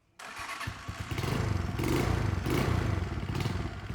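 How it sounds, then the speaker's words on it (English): A little 125cc engine starts up and runs close by, its steady mechanical clatter building after a sharp start and holding loud for several seconds. "So we're going to be putting this engine, little 125cc, listen to the power of this."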